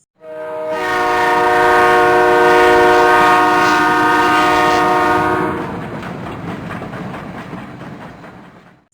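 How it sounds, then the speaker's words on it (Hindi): A train rolls loudly into a railway platform, its horn sounding in a long multi-tone blast over rattling wheels, then the horn stops and a steady clattering rumble continues as it slows, with no talking. "तभी धड़ धड़ करती प्लेटफॉर्म पर कप कपाती ट्रेन आ ही गई"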